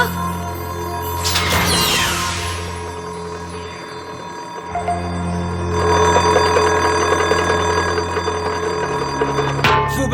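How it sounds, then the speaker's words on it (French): A bedside alarm clock rings in a French cartoon, a busy electronic ringing with broad bursts near the start and end over steady tones and background music. "C'était un réveil matin à réactivité concentrée pour les endormis."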